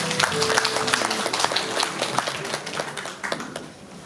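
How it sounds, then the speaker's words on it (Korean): Audience applause at an indoor public lecture event welcoming the next presenter, a dense, steady clapping wash that holds for about four seconds and tapers slightly near the end. "큰 박수 부탁드리겠습니다."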